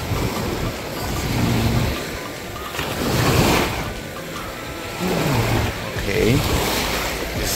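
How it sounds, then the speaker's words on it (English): Surf washing onto a beach in Miami, a steady broadband wash with wind buffeting the microphone, swelling and easing in a few slow surges across the recording, with a person speaking briefly over it. "Let me show you the ocean."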